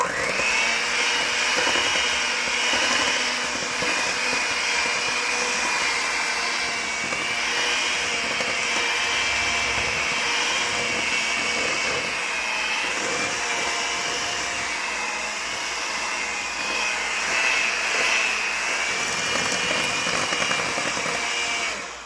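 Electric mixer beating flour into a peach cake batter, a steady loud whirring motor hum running continuously with slight fluctuations in pitch as the beaters work through the mix.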